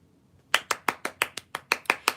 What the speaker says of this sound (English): give a round of applause to the masculine